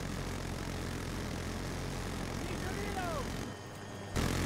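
A jet engine drones steadily in Battlefield 2042, a broad continuous roar with a faint rising whine near the end. It cuts out briefly, then returns louder.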